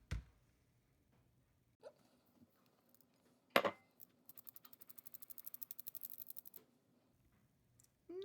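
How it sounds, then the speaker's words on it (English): A hand sifter working flour into a bowl gives a fast run of squeaky, ratcheting clicks lasting about two seconds. Isolated knocks and taps sit around it, close and quiet, over an otherwise near-silent background. "we're going to take this flour and we're going to sift it into our main bowl"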